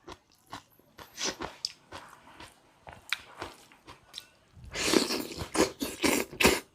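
Close, crunchy chewing of lightly cooked bitter gourd (ampalaya): repeated wet bites and crisp crunches in an uneven rhythm, growing louder and denser toward the end.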